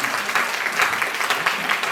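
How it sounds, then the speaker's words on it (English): An audience at an LGBT cabaret show claps in a short, dense burst of applause, steady and close for under two seconds. "So a big round of applause to these."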